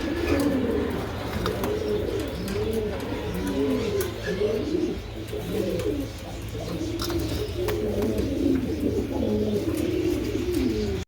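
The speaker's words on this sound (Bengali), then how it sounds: "ভিডিও শুরু দেখাচ্ছি এক জোড়া ইংলিশ টাম্পেটার" A pair of English Tumbler pigeons, male and female, cooing steadily in repeated soft, throaty phrases close by, with a low background hum.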